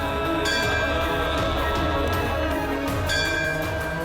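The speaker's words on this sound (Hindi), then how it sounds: "फिर ये घंटी कैसे बज रही है अपने आप ही?" A bell rings on its own in an empty temple setting, a steady bright metallic tone sustained throughout with repeated strikes under a dense shimmering backdrop, moderately loud and without talk.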